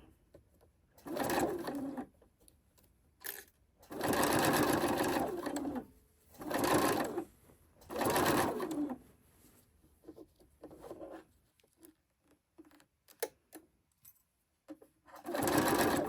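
A sewing machine stitching fabric for a Christmas tree skirt runs in several close, steady bursts of a few seconds each, with quiet pauses and small handling sounds between the runs.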